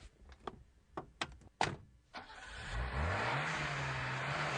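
A new car from Riverside Premier Motors is heard up close. A few sharp knocks and a solid door thunk come first, then the engine starts and revs up into a steady, loud mid-pitched hum that carries on to the end.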